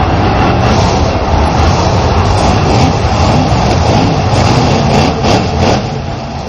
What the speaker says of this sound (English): the trucks as they start up.